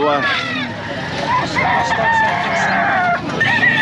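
Fighting roosters (gamecocks) crow and cluck amid a busy pet market, several birds overlapping at close to mid distance, with people talking and bargaining in the background throughout.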